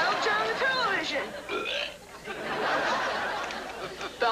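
Loud, drawn-out belches from a comedy parody commercial, several in a row, mixed with voices and snickering laughter.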